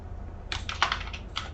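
Computer keyboard typing, a short run of crisp, quick key clicks heard close and alone over a faint low hum.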